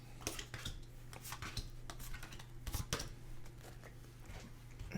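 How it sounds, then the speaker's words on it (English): A tarot deck being shuffled and cut by hand, producing quick, close, soft card riffles and taps in an uneven rhythm, fairly quiet against a faint steady hum. "Do a couple of cuts here."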